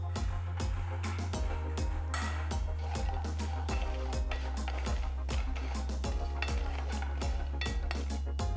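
Walnuts stirred in melted butter in a pan, a close, busy rattle of nuts and repeated sharp scrapes and knocks of the spoon against the pan, continuous with no talk.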